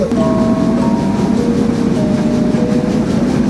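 A train rumbles steadily with a low, continuous drone and faint metallic squeals as it slows to stop at Tangail station in Bangladesh.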